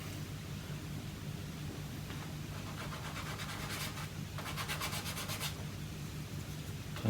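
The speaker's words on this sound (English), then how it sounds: "smoothest grit on this emery board" A small part for a 1/72 scale WW1 U-boat model, the SM U9, is rubbed on an emery board, making quiet, soft scratchy strokes in short rhythmic bursts, most distinct near the middle of the clip.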